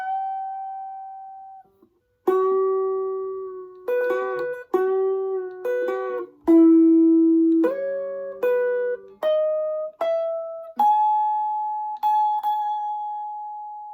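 Guitar playing the second half of a song's solo: a string of plucked notes and double stops, about a dozen attacks in a steady melodic phrase, each left ringing, close and clear, ending on a long sustained note, with no voices.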